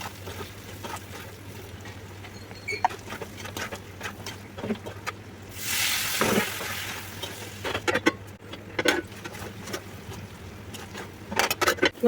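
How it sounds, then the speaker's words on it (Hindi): Taro root (arbi) being tempered in a hot pan, with a burst of sizzling midway and light stirring and clinking scattered around it, fairly quiet and close with no talking. "तो अब मैं फटाफट से अपनी अरबी को छौंक लेती हूँ।"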